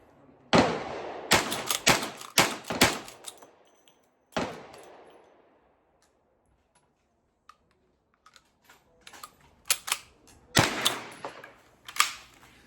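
An Uberti 1873 lever-action rifle in .38 is fired in cowboy action shooting: bursts of sharp, close cracks and metallic clicks come in quick runs, separated by a quiet stretch before more scattered shots.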